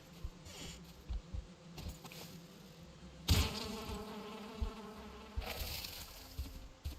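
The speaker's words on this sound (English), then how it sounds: "this is the best reason as to why we wait for the bees to calm down after we destroy their hive" Angry bees from a destroyed hive in a video game, a buzzing drone that flares in loud bursts between quieter stretches, with sharp clicks and thumps scattered throughout.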